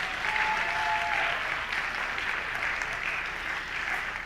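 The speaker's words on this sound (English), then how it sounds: "Yeah, give them applause." Applause for parents at a winter sports awards ceremony, a dense, sustained crowd clapping at steady volume with a faint voice briefly audible early on.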